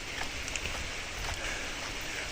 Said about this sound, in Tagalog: malakas kasi yung ulan